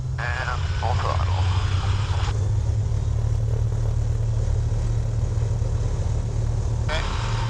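A Rans S-7 Courier light aircraft engine runs at full throttle in a loud, steady drone, heard close with brief radio-like chatter over it.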